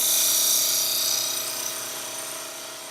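A wood lathe cuts the end grain of a lidded box blank while the tenon is shaped, giving a continuous high, hissing whine with steady tonal hum beneath, fading slightly toward the end.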